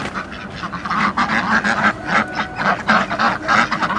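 Farm ducks, raised for about twenty days beside a coop being dismantled, quack in a noisy close flock, their harsh bursts overlapping in an uneven rhythm.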